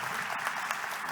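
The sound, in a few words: audience applause after a conference talk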